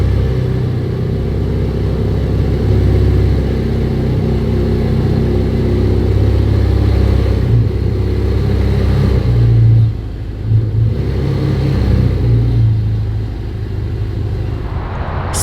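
A Ferrari engine idles with a deep rumble, then revs sharply a few times near the middle before settling back, loud and close.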